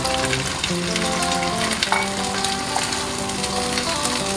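Sardines frying and spattering in a hot pan, a dense continuous sizzle with sharp pops and crackles throughout, close and steady.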